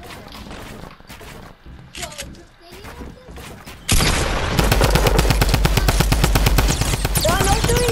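Rapid automatic gunfire erupts in a Fortnite battle royale match, a loud sustained burst of shots that follows a stretch of quieter game sounds and voices talking.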